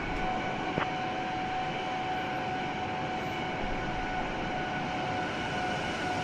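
Boeing 787-9 engines in Microsoft Flight Simulator 2020 drone steadily during the climb, a smooth, even roar with a faint high whine, alone and without talk.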